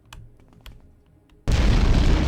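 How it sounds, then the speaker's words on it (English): A few soft clicks come first, then a Dwemer bomb in Morrowind's Tribunal expansion goes off with a sudden, loud, roaring blast that stays at full force to the end. "I guess the explosions do hurt if you're too close."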